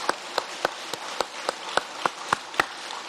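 Applause rings out at a Tatarstan State Council session marking the republic's centenary, heard as evenly spaced, sharp claps in a steady rhythm, moderately loud and close, with no voices over them.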